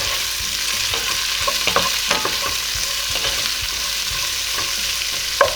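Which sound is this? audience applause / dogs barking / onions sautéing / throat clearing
onions sautéing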